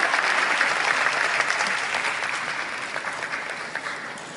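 Audience applause fills the room at the Japan Race Queen Awards ceremony at Tokyo Auto Salon, a dense, even wash of many hands clapping that fades slightly toward the end.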